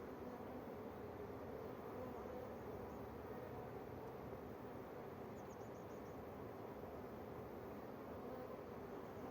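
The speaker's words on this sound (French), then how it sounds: "c'est vraiment des jolis cadres d'abeilles" Honeybees on hive frames during an inspection of queen cells hum in a faint, steady, continuous drone that stays even throughout, with no voices.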